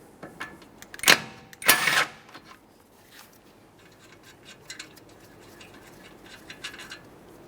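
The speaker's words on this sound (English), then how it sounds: "Use a 17mm to remove the mounting nut here." Two sharp metallic clicks and ratcheting bursts close by from a 17mm wrench loosening the tie rod mounting nut on a 2011-2020 Toyota Sienna, followed by faint scattered tool taps in a quiet garage.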